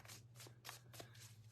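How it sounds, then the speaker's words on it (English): Oracle cards are shuffled by hand in a series of crisp, riffling bursts, about five quick pulses close to the microphone and faint overall, over a steady low electrical hum. "So I'm going to start shuffling."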